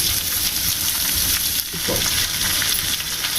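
Onion, garlic cloves and a small lump of tamarind fry in hot oil with coriander seeds, giving a loud, steady sizzle and crackle that fills the whole stretch, with a brief dip and some stirring noise midway.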